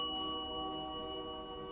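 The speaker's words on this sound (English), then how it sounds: "Can you ring that bell again?" A bell rings in an old 1858 hotel building, its sustained metallic ding holding steady tones that linger and slowly fade throughout, with no talking.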